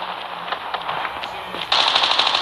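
Rapid bursts of video game gunfire crackle loudly and continuously, with a sharper, denser volley breaking out near the end.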